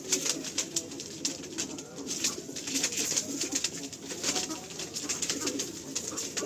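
Kalanka high flying pigeons coo steadily nearby, soft throaty calls repeating over a constant background hum, with faint talk now and then.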